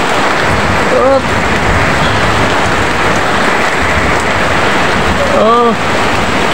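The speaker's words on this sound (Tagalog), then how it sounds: "Ito, malakas ang ulan." Heavy afternoon rain pours down steadily, a loud dense wash of water on surfaces, with a brief spoken exclamation over it.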